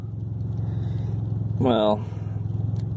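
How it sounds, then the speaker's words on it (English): A car with a loud exhaust idles close by under a steady low rumble, while a person talks briefly over it partway through. "a loud exhaust."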